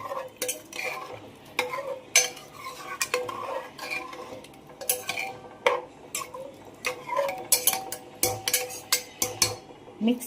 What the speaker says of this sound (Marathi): आणि पाणी टाकल्यानंतर पुन्हा एकदा सगळं मिक्स करून घेते